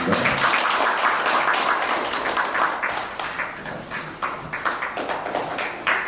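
An audience applauds at an academic conference opening, dense clapping at first that gradually thins into sparser individual claps toward the end.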